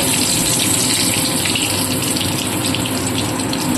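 Whole cinnamon, cardamom and cloves crackle and sizzle in hot ghee for a basanti pulao tempering, a dense, steady frying hiss that stays loud and close throughout with no voices.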